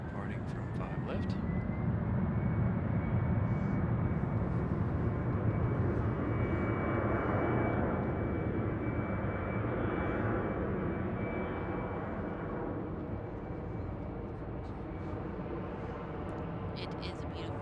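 A Breeze Airways jet departing runway 5 left at Raleigh-Durham produces a sustained engine roar with a rising whine tone, peaking early then easing gradually, while people talk intermittently over it.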